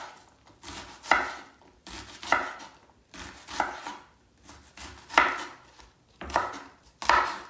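A knife chops through an onion on a cutting board in distinct, evenly spaced strokes, about seven crisp, close cuts alone with no talk.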